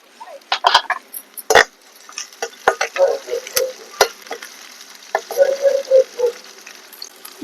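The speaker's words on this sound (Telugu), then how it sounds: "ఇగో తాలింపు దోరగా ఏగుతుంది కదా" Oil sizzles and spits steadily as spices and dried red chillies fry, with sharp crackles and pops scattered throughout.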